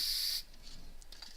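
A short, sharp hiss from a spray can of pre-catalyzed urethane lasts under half a second, then gives way to near silence with a few faint taps.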